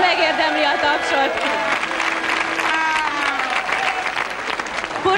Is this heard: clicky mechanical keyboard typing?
no